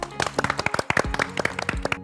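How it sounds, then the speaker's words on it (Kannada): A studio audience on a television cooking show clapping, a quick run of sharp, close, uneven hand claps that starts and stops within a couple of seconds, lively but not dense. "ಚಪ್ಪಾಳೆ"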